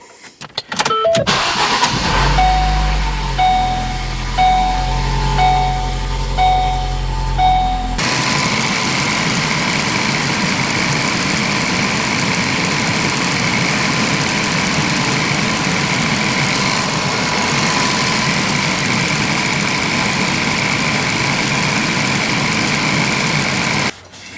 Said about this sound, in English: I am now going to run the engine to get it all warmed up